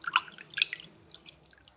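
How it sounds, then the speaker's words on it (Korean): Blanched mugwort being squeezed by hand, with water dripping and splashing in a few quick bursts at the start, then quieter trickles trailing off. "물기를 꾹 한번 짜내고"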